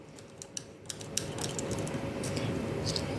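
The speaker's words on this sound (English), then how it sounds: "So now put the nut locks back on" Nut locks on an IoT device being threaded back on finger tight, giving small clicking and scraping metal ticks in an irregular run against a steady background hum, close up.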